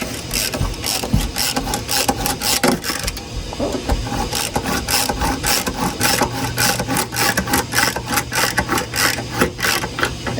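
Vintage Soviet ratcheting hand screwdriver driving a 2-inch screw into wood, a steady fast clicking of the ratchet with rhythmic creaks and scrapes throughout, close and loud.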